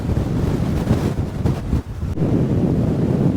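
Strong wind by the sea in Shetland buffets the microphone in a steady, loud roar, with the wash of sea surf rumbling underneath throughout.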